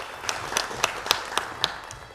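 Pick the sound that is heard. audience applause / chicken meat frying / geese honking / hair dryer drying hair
audience applause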